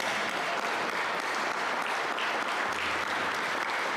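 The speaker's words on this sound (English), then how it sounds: "Can we give Joe Nyland a round of applause?" An audience at a college hall of fame ceremony claps in a thick, even wash of applause that holds steady for several seconds, filling the room without a break.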